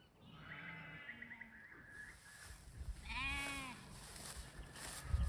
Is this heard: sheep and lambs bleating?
yes